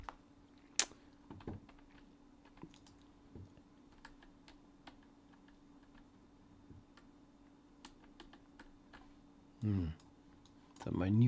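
A new computer keyboard clicks with sparse, scattered keystrokes over a low steady hum, and two louder bursts near the end.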